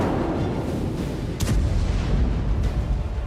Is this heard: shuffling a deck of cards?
no